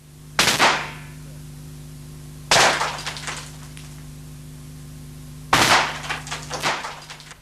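SA80 rifle fired in bursts into lightweight insulating blocks, three sharp loud reports spaced a couple of seconds apart, each followed by a short rattling decay, over a steady low hum.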